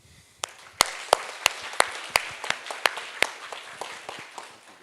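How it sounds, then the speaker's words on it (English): Conference audience applauds the organizers on the final day of Phosphor Safari 2024, a sparse scatter of individual claps that builds briefly, then thins out, heard from a middle distance in a quiet hall. "I think we can make a good applause for them"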